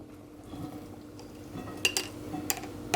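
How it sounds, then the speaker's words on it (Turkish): A utensil stirs chopped cauliflower through a thick sauce in a pot, with soft scraping and a few light metallic clinks toward the end. "karnabaharı sosla karıştırıyorum."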